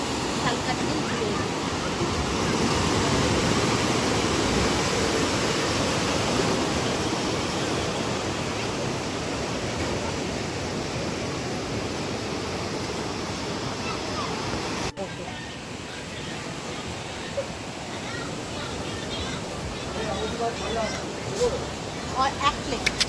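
Sea water rushes in at Mandarmani beach, a broad, steady roar of surf that softens partway through, with people talking over it.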